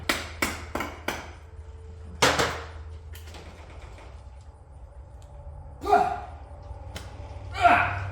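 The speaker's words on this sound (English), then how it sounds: "Let's see if we can unseize it with a hammer real quick." Several sharp metal hammer strikes ring out on a seized Range Rover Classic engine, a quick burst of blows and then scattered single hits with gaps between, close and loud.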